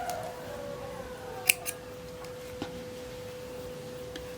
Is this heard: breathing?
no